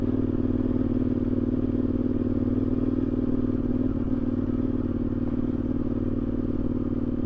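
A KTM 1090 Adventure R motorcycle climbs a wet, rocky hill in second gear, its low engine drone steady and close while stones clatter and scrape beneath the tyres.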